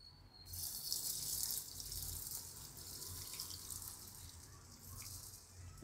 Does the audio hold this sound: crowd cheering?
no